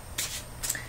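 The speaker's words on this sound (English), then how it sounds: "I'd like to take a card from the Sacred Path cards by Jamie Sams" Sacred Path oracle cards by Jamie Sams, an Aboriginal-themed deck, riffled in two quick papery bursts, close and fairly soft, with a faint low hum between them.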